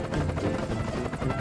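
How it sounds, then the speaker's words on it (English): Helicopter rotor and engine noise, a steady whirring drone with a loose chopping pulse, heard close and fairly loud for a brief moment. "Helicopter."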